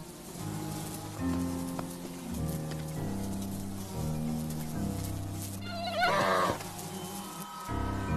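Insects buzzing in the Arctic summer where polar bears rest, a continuous high whine over a steady low drone, with a louder burst as one flies close to the recorder.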